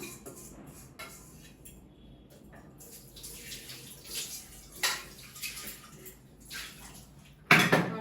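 Water runs from a kitchen tap for cooking rice, a steady soft splashing that swells and fades, with occasional clinks of pots and utensils and a louder clatter near the end, all close by.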